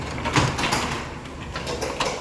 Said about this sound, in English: this door has been balanced, and the opener sounds a lot happier now